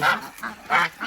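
A pair of geese honk close by in a quick alternating run of four loud, nasal calls, with no voices.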